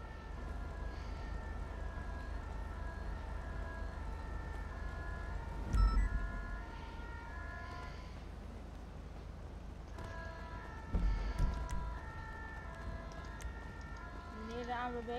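Steady wailing ambulance siren in a Dutch police roleplay video game, holding a continuous rising and falling tone throughout with people talking over it and two short thumps near the middle.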